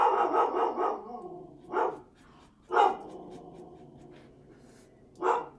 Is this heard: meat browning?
no